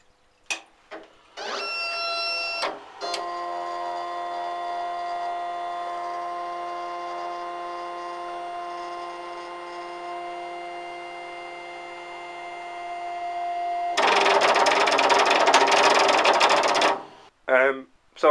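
A cheap 40-watt Chinese laser cutter runs a faulty homing sequence, a steady motor whine with tonal stepper hum lasting most of the span, bracketed by short clicks and a louder burst of mechanical noise near the end.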